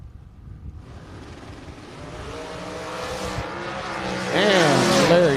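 A drag racing dragster launches and revs up, its engine note rising in pitch and growing louder over a few seconds, with an announcer's voice and crowd noise beneath.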